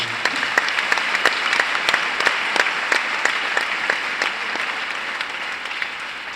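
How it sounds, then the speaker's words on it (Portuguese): A church congregation at a 2016 conference applauds, giving steady, dense clapping with sharp individual claps standing out. It goes on throughout at moderate loudness with no voices. "Aplauda o seu nome mais uma vez."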